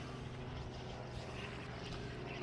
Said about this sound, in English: The helicopters waited all day to fly overhead as soon as I turned the camera on.